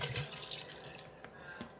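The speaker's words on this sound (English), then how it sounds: "I'm gonna go in there and deglaze this with about a bottle of filtered water." About a 16-ounce bottle of filtered water pours into a hot pan to deglaze a beef pot roast, a continuous splashing, rushing stream with faint sizzle, no talking.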